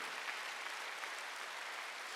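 A church congregation at a Wednesday worship service claps together in a steady, dense wash of applause that holds even and unbroken throughout, heard alone without speech.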